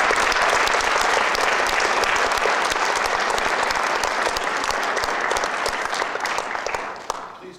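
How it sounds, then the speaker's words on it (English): An audience at an evening band concert applauds the performers, a dense sustained clapping from many hands that stays strong and then tapers off near the end. "another round of, I think, of applause for all of our performers is in order"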